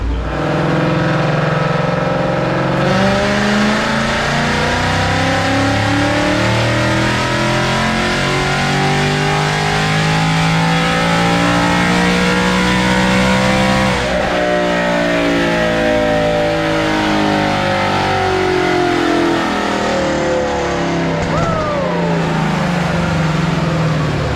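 An S550 Mustang roars on a chassis dyno in a loud sustained run, engine climbing steadily through the revs with a brief shift in tone as the tires slip slightly, then steadying before it winds down.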